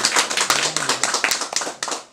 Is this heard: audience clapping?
yes